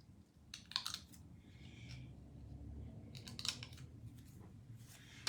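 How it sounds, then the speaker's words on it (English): Scissors snip a Christmas lattice card, two short bursts of sharp paper-cutting clicks a few seconds apart, close and fairly quiet against a soft room hum. "I wonder if I can do it with my scissors."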